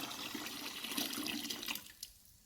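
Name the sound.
cool water poured into fermenter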